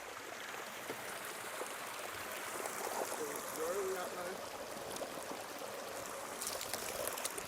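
Fresh spring water pours off the mountainside at Cold Springs, a roadside stop between Falls City and Valsetz. It makes a steady, close, rushing flow that carries on without pause.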